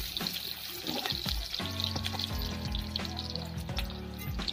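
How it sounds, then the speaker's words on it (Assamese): Onions frying in hot oil, a steady close sizzle and crackle running throughout, with tonal music playing over it. "তেল গৰম হৈছে, আমি প্ৰথমে ইয়াত পিঁয়াজখিনি দি ল'ম"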